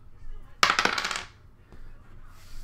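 A six-sided die rolled onto a hard surface, a sharp burst of rapid clattering tumbling hits that settles after about half a second, followed by a faint lone tap in a quiet room.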